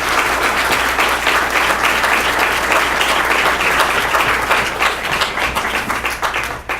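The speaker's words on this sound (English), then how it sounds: "I think we'd like to give the candidates here a round of applause." An audience at a candidate night in Mountainside, New Jersey applauds the candidates, a dense, sustained round of clapping filling the room and thinning slightly toward the end.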